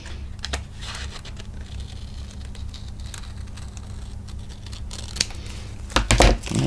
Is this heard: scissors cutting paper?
yes